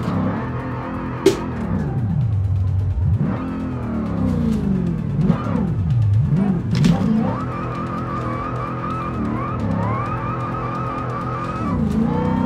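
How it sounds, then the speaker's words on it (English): Dodge RAM TRX pickup tuned to 1000 HP in BeamNG Drive, its engine droning steadily and close with pitch climbing and dropping through repeated revs and gear changes, plus brief tire squeal, no talking. "POV, you're a real man driving a real man truck."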